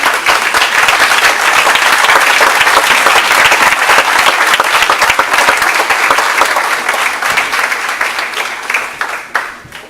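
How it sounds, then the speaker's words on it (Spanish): Loud, sustained applause from a large church congregation during a sermon, steady for most of the stretch before gradually thinning out toward the end. "¿Qué le parece si damos otro fuerte aplauso?"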